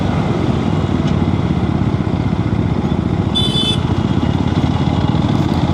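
Steady engine drone of an Aprilia RS457 motorcycle cruising on a busy road, loud and continuous with constant wind rumble and no pauses.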